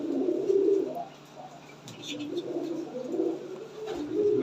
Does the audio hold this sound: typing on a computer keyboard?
no